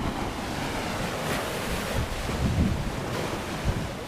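North Sea waves at high tide near Saint Andrews, Scotland, a steady broad rush of surf mixed with heavy wind buffeting the microphone, with no voices.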